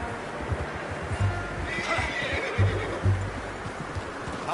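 A horse neighs and snorts in Red Dead Redemption 2, a close whinny rising briefly while low hoof clops and shuffling sounds continue beneath, with no talking.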